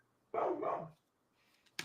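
A dog barks in a video game, one drawn-out, loud bark near the start, followed by quiet and then a brief sharp noise at the end.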